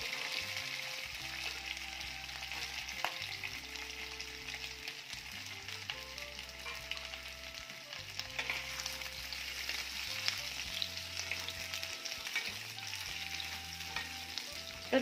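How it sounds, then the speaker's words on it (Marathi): Potatoes fry in hot oil in a wok, giving a steady, close sizzle that continues throughout, with occasional light stirring clatter and no talking. "आता या तेलामध्ये हे बटाटे आपण परतून घेणार आहोत."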